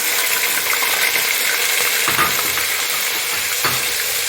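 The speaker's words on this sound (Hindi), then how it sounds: "अब हम अपना डालेंगे प्याज।" Onion paste frying in hot oil for an aloo chicken curry, a bright crackling sizzle that holds steady, with a few sharper scraping stirs of the pan; no talking.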